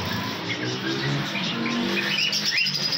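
Java sparrows and other caged birds at a Sunday bird market in Bahawalpur, with a dense, steady chorus of chirps and tweets close by amid market bustle.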